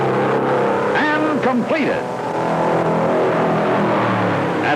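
A 1955 NASCAR stock car on a qualifying run at Darlington gives a steady, loud engine roar that carries through the whole stretch, while an announcer talks over it.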